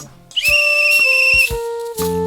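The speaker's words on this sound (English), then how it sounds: "Saw the guard from Donnybristle wave his flag and blow his whistle" A railway guard's whistle blows loud and shrill during a live folk song in a bothy, sounding as a sustained blast that breaks into several short bursts, with instruments around it.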